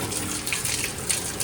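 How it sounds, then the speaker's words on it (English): A garage sink faucet runs with air trapped in the line, giving a steady hissing gush of water broken by sputtering bursts, close and fairly loud, with no talking. "A lot of air in that line."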